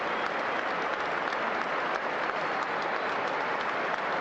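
Football supporters in a stadium applaud a Newcastle player going off injured against Manchester United: a continuous, even wash of distant crowd clapping and noise.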